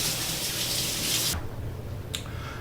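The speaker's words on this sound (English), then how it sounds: "Let me go ahead and rinse my hands." Hands are rinsed under a running kitchen faucet, a close, steady hiss of water that cuts off abruptly about halfway through, followed by a single small tap and quiet room tone.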